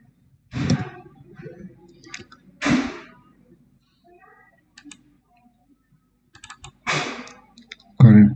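Scattered keystrokes on a computer keyboard while text is entered in ArcGIS, heard as brief, sparse clicks between louder bursts of a man's nearby speech.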